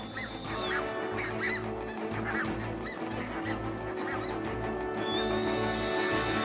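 A flock of geese honking out in the open in a Chilean desert setting, many overlapping calls at once, loud and continuous against a busy background.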